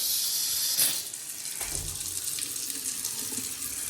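Tap water runs steadily into a container with a broad hissing gush, loudest in the first second, then continuing at an even level with small splashes and clinks.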